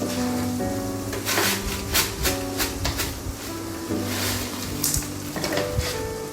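Sardine fish curry with tamarind being mixed in a pan, loud close sizzling with clattering spatula strokes against metal, a steady tonal hum running underneath throughout.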